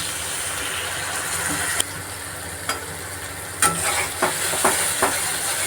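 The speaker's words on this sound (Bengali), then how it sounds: "ধনে পাউডার দিলাম অল্প জল দিলাম মশলা কষিয়ে নেব" Spice masala sizzling steadily in a pan as it is fried and stirred for a Bengali chicken curry, with a loud continuous frying hiss and a few spoon scrapes and taps, no talking.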